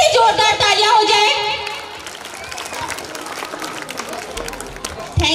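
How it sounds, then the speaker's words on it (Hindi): Audience applause for a stage performance at a school annual day celebration, a burst of clapping and crowd noise that starts loud, then tapers off and carries on at a lower level. "तो इस परफॉर्मेंस के लिए एक बार फिर से जोरदार तालियां हो जाए।"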